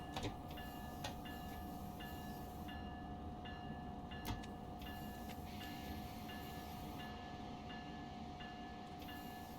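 Amtrak train on the Northeast Corridor in New York rolling into a station and coming to a stop, a steady low rumble with a sustained tone and faint rail clicks throughout, no talk.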